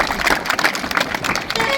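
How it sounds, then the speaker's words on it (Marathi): Audience applause at a college cultural programme, a dense wash of many hands clapping that runs steadily through the whole moment without pause. "तुमच्यासाठी जोरदार टाळ्या वाजवायच्या आहेत"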